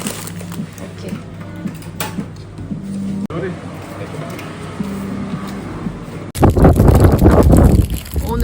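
Strong wind blowing along a countryside road on Santorini, buffeting the microphone in steady gusts that grow much louder near the end, with faint voices and a low engine hum underneath.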